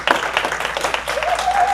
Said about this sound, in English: So give a round of applause to